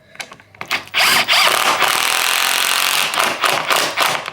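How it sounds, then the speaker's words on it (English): An impact driver drives screws through door shims in loud, close bursts of rapid hammering, with short pauses and a brief start-up whir before the longest run. "I've gotten to where I just use the impact"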